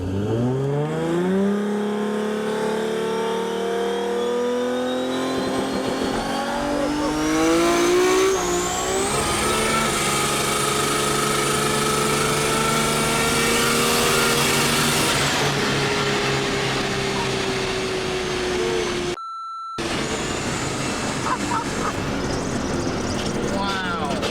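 Nissan GT-R on an eight-second drag racing pass, its engine roaring loud and close as the pitch climbs steadily through several gear changes before a brief dropout near the end.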